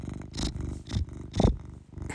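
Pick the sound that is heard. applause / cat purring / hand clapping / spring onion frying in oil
cat purring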